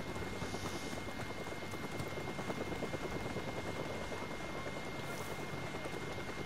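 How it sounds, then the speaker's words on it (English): A helicopter in the video game Call of Duty: Modern Warfare Remastered gives a continuous, steady rotor drone at moderate loudness with no talking. "the helicopter comes back around anyway"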